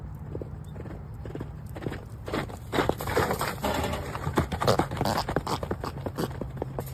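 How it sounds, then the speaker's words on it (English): A horse gallops with rapid, loud clip-clopping hooves building over several seconds, with a neigh breaking through the busy, close-up hoofbeats. "Have you ever seen a horse that's equipped with turbo?"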